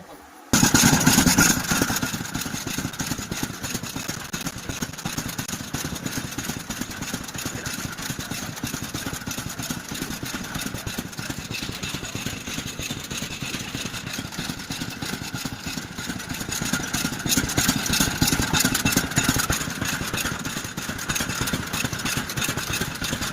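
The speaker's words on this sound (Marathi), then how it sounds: "आता आपण डंकावर जाऊया आणि मसाला कुटूया." A motorised mill grinds sun-dried red chillies and roasted whole spices into Agri Koli masala, a steady loud mechanical drone with rattling that runs continuously for over twenty seconds, swelling slightly near the end, with no talk.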